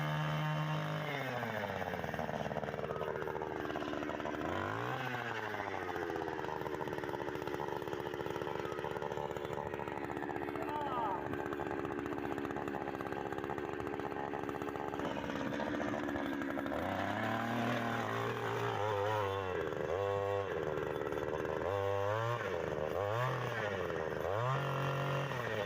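A gasoline-powered earth auger bores a post hole for a barbed-wire fence, its small engine droning loudly and steadily, then rising and falling in repeated revs as the bit works into the ground, with a voice speaking over it in places.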